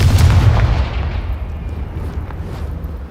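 Confringo blasting spell in Hogwarts Legacy, a single heavy booming explosion up close that rumbles and slowly fades over a few seconds.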